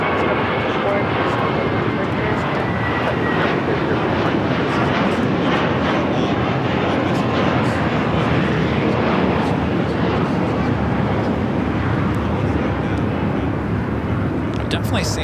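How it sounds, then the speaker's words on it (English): A JetBlue Airbus A321 bound for JFK roars down the runway at Los Angeles International, a loud, sustained broadband engine rumble filling the whole stretch while a voice talks over it. "Next takeoff, heading to JFK. It's an E321 JetBlue flight"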